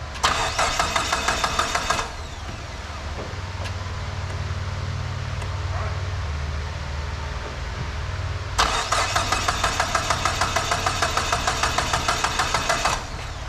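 A Dodge SRT-4 engine, just back from an oil leak repair and running poorly, cranks in a fast rattling burst, settles into a rough low idle, then cranks hard again, all close and loud.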